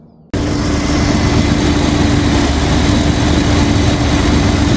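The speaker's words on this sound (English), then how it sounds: "with the new old factory IAC, it's idling smoothly" A Jeep 4.0 engine with a new idle air controller starts with a sudden jump in level, then settles into a steady, smooth, fairly loud idle with a low hum throughout.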